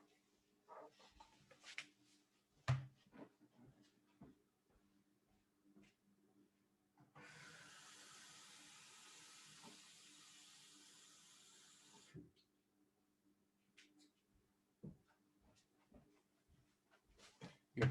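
Water running from a tap into a container for about five seconds, a steady hiss framed by scattered knocks and handling clicks in a quiet room before and after.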